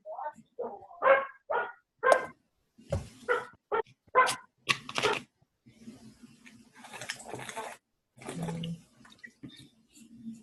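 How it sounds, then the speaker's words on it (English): Dog barking in bursts of sharp, moderately loud barks indoors, with a person talking between and after them. "I'm taking care of a dog that barks."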